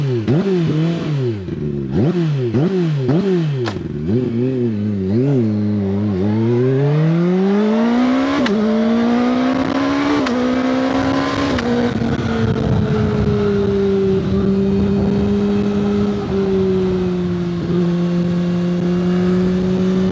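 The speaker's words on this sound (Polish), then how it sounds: "strzały przy odłączeniu zapłonu w trakcie, gdy naciskacie na dźwignię zmiany biegów" A QJ Motor SRK 921 RR sport motorcycle revs loudly in repeated sharp blips, then climbs through the gears with the quickshifter cutting ignition, leaving brief crackles and pops before a long sustained high-revving pull, close and dominant.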